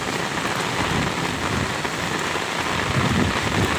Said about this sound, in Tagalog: Ang lakas ng hangin at ulan mga tikwi